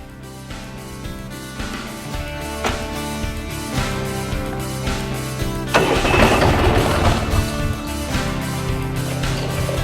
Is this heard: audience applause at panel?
no